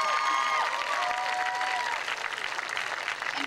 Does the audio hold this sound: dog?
no